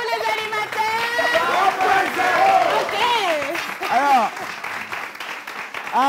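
An audience at a live French animation event claps and cheers, with applause mixed under loud shouting and whooping voices that rise and fall over several seconds.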